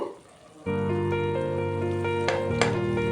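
Curd dropped into masala frying in oil for a soya mealmaker biryani, setting off a steady, loud sizzle that starts abruptly and holds with bright crackling, plus a couple of clinks of the pan or spoon.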